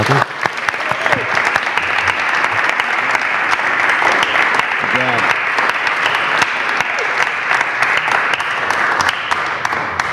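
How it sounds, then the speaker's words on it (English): Sustained, dense applause from a forum audience, loud and even throughout, with no pause or talk breaking through. "Let's give them a round of applause."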